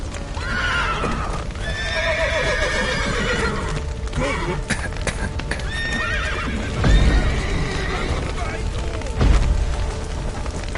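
Horses in the video game The Witcher 3 whinny and neigh repeatedly over steady hoofbeats and dense background noise, with a couple of deep booms partway through.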